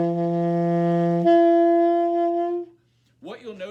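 A wind instrument holds a low note, then leaps up an octave to a higher note on the same breath. Both tones are sustained and clear. Brief voiced sounds follow after a short silence.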